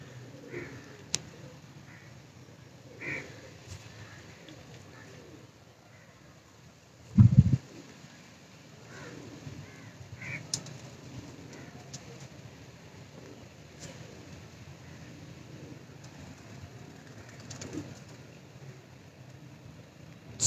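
Captured pigeons held in hand make soft, low cooing in the background, faint and intermittent amid quiet ambient noise, with a brief loud thump near the middle.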